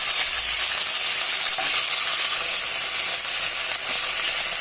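Ginger garlic paste frying in a pan as a steady, dense hiss of sizzling oil, loud and close, with faint stirring clicks and no voices.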